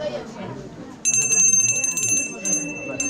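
A small puja hand bell rings continuously with a bright, steady tone, joined midway by rapid jingling, over a murmur of background voices at an engagement ceremony.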